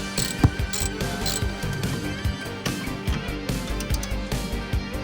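A ratchet tightens sway bar bolts during a Whiteline sway bar install on a car, a rapid, close clicking of the pawl in repeated bursts, with a clank near the start.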